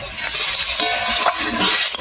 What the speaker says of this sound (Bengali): আমি এবার জল ঢেলে দেবো।